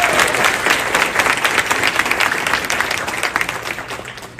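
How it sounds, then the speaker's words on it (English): An audience gives the RH Singers a loud, sustained round of applause at a town Hall of Fame event, dense clapping filling the room and tapering slightly near the end. "Let's give them another round of applause"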